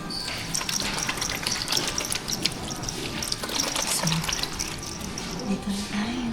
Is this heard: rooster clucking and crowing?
no